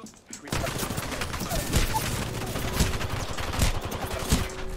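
A steady rattle of gunshots during a video game arena match, repeated sharp cracks over a continuous loud bed of action with no speech.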